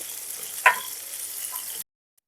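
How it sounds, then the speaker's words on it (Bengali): Gandhara fish frying in hot oil, a steady soft sizzle with one brief sharp spatter near the start before the sound cuts off abruptly to silence. "মাছগুলো ভাজা হয়ে গেছে, এরপর আমি এগুলোকে তুলে নেব"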